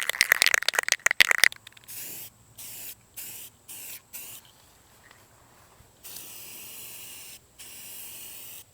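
Spray paint can hissing onto a truck camper grill in several short bursts and a longer steady spray, each separated by brief pauses, preceded by a quick rattle of the can being shaken.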